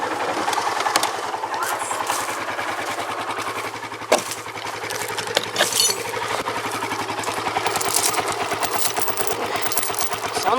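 A small engine idles close by with a steady, rapid pulsing beat. It runs slightly unevenly, with a couple of sharp knocks along the way.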